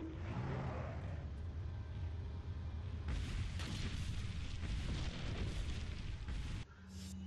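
A rocket launcher explosion in Resident Evil 4 Ultimate HD Edition: a loud, broad booming blast rises at about three seconds over constant game rumble, holding heavy and dense for several seconds before cutting off.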